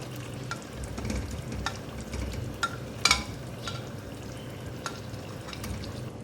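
Chicken malai tikka stirred into sizzling karahi masala, a steady close frying hiss with scattered spoon scrapes and clicks, one sharper clank midway, and no talking.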